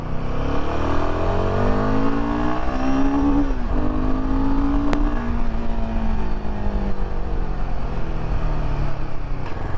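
A Royal Enfield Himalayan 450 motorcycle engine revs hard while riding, its loud, steady drone climbing in pitch, dipping briefly as a gear shifts, then pulling again under constant wind rush. No voices are heard.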